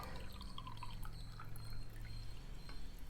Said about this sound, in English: take an empty glass and fill a glass of water